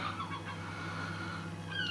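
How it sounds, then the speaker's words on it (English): Noisy seagulls call behind a house, with a few harsh cries over steady outdoor background noise, growing louder and sharper toward the end. "close up of one of these noisy seagulls"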